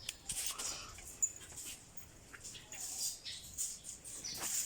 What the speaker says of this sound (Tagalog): Ito naman aking aso.